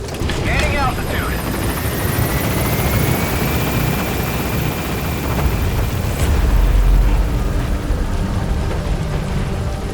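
A helicopter climbs in Metal Gear Solid V, its loud rotor thrum and turbine whine holding steady throughout with a rising tonal sweep and a deep rumble near the end.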